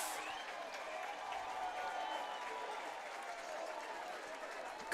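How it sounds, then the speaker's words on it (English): A baseball crowd cheers and applauds after the Utica Unicorns score their first run, a sustained mid-distance roar of clapping and voices. "Crowd livens up for the Unicorns' first run of the ball game"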